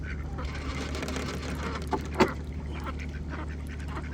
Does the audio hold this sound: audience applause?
no